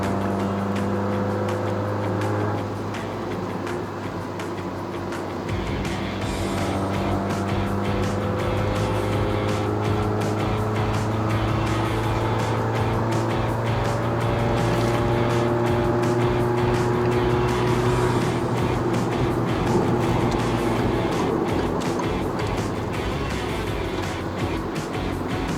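A 2015 Peugeot 208 1.6L VTi engine and exhaust drone steadily while driving on a test drive in Malaysia, with engine tones climbing as it accelerates. A loud continuous hum fills the cabin.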